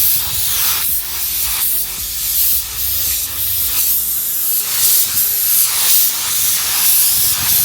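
Close, loud spray-gun hiss comes from a light coat of paint going onto a classic van outside, in repeated sweeping passes that rise and dip over several seconds, with no voices.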